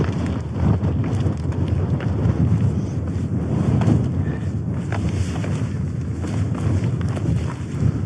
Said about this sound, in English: especially when the wind's ripping through